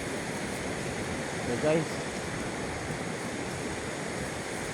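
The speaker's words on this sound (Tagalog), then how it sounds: "Medyo huminahon guys ang dagat" Broad, constant wash of surf from a calming sea, close and steady with a brief swell in the middle, as someone says a few words.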